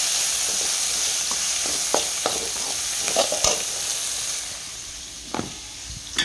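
Chilli powder, ridge gourd powder, salt, turmeric and dried fenugreek leaves are stirred into a sizzling pan, with a constant hiss of frying and a few sharp spoon scrapes and taps against the pan.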